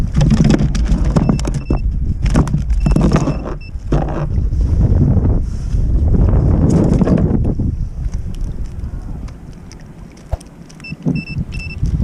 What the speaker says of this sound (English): Well, today it was windy.